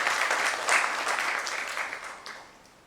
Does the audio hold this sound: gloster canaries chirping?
no